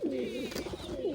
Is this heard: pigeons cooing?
yes